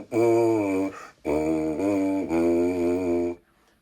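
A wind player buzzing into a mouthpiece, a rich, wide, brassy buzz in three sustained bursts with short gaps, loud and close with no talk.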